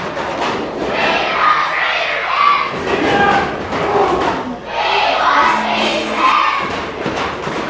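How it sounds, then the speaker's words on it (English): A wrestling crowd chants for a wrestler, a loud, sustained roar of many voices rising and falling in rhythmic waves, filling the arena. "We hear the crowd chanting they want Beastman,"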